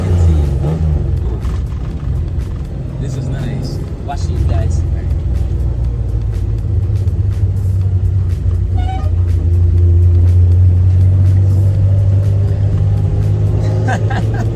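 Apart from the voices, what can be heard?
1971 Nissan Skyline Hakosuka classic car engine running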